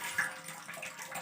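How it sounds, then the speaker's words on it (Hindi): Hot water runs from a tap for washing a pile of dishes, a soft, faint trickle and splash lasting about a second. "ये थोड़ा सा गर्म पानी आ गया, देखिए गर्म पानी है"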